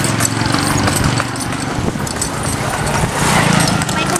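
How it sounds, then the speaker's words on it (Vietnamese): Horses running in a race in the Mekong Delta near My Tho, with hoof clatter buried under loud, constant crowd noise and people talking throughout the short stretch. "Mấy con ngựa giật mấy ngựa chạy chứ"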